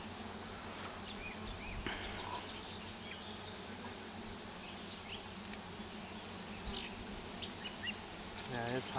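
Honeybees buzz steadily around an open beehive during an inspection, a faint, continuous hum with a few brief rustles and clicks close by.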